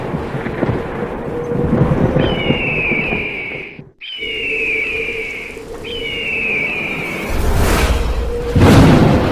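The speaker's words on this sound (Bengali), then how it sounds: "হঠাৎ চারিদিকে জল ঝড় আর বজ্রপাত শুরু হয়ে যায়" Cartoon thunderstorm: rumbling storm noise with a sudden dropout, repeated rising tonal sweeps, and a heavy low thunder boom near the end amid wind.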